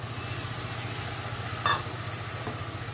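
Ginger-garlic paste and chopped tomato sizzle with browned onions in a hot pan, a steady close hiss over a low background hum, with one brief louder clatter partway through.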